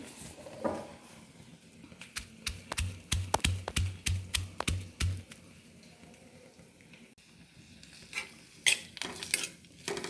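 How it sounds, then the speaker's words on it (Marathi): Garlic, green chili and onion sautéing in a wok, a soft sizzle under a run of rhythmic metal spatula taps and scrapes against the pan, close, with a few more clinks near the end and no speech. "आता मी हे कढईमध्ये सगळं घालून घेते हे परत होतं"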